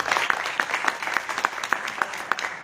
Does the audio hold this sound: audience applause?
yes